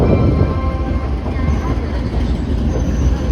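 The Poorva Express train rumbles and clatters steadily up close as it arrives at Kanpur Central station, with faint squealing wheels over a continuous low roar of rolling stock.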